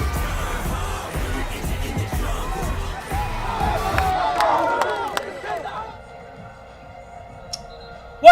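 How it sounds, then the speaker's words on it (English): An energetic crowd roars and cheers in a stadium at a Texas high school football game, loud and sustained with shouts, then fading toward the end. "Very energetic crowd right now."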